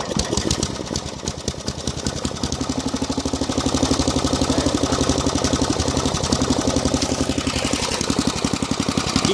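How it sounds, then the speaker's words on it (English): Small lawn mower engine idling close by with a steady, rapid mechanical chatter and ticking valve clatter, running on its own with no talking. "You can actually hear the valves running."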